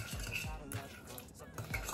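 Egg mayo sandwich filling being stirred and mixed in a bowl, with soft, quiet scraping and clinking of a utensil in a quick, uneven rhythm.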